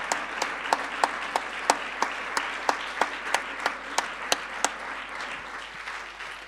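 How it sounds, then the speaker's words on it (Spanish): Church congregation clapping together in a steady, even rhythm of about fifteen claps, moderately loud in a roomy space, with a faint murmur underneath. "Yo quiero darle un aplauso a Dios"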